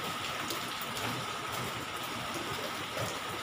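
Heavy rain falling steadily outside an apartment, a dense, even wash of hiss and patter that holds at a constant level throughout with no voices.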